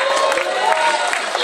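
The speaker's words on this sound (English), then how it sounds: "Please put your hands together for Atulya." An audience at a college spring festival show cheers and claps for the performer Atulya Tiwari, a lively, close burst of mixed applause and shouts over a short stretch.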